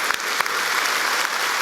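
A church congregation claps together in a dense, steady burst of applause during a Sunday worship service, loud and close, filling the whole short moment with no talking over it.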